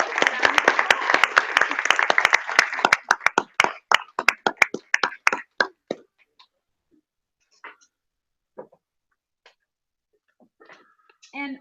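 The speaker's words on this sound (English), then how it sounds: "let's give them both a round of applause" An audience claps for two award recipients at an educator of the year event, a brief burst of dense applause that thins into scattered individual claps and fades to near silence, with a voice briefly at the end.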